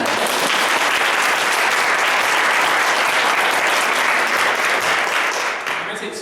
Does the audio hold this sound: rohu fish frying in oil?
no